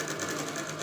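A sewing machine runs fast, stitching the lining onto a blouse, a brief continuous whirring burst up close.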